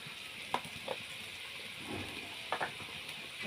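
Chili powder and ginger paste fry in a pan with a faint, steady sizzle, broken by a few soft clicks and scrapes of stirring.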